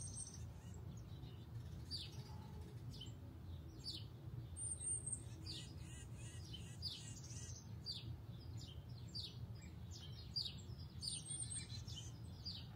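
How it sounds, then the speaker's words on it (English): Outdoor birdsong, several small birds chirping and trilling in scattered bursts, fairly distant and soft over a low, steady background rumble. "I could literally listen to the birds all day."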